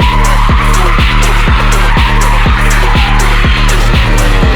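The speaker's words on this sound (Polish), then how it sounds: "Taktycznie rozgrzewanie opon jest, tak?" Tyres on an old beater race car squeal loudly and continuously during a tyre warm-up, the engine revving in steady repeated pulses beneath the screech.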